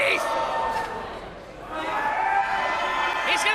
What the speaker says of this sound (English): Hear the crowd.